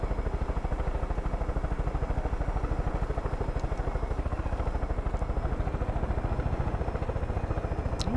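A helicopter flies in the video game Far Cry 5, its rotor producing a steady, rapid rhythmic chop that stays even and moderately loud throughout.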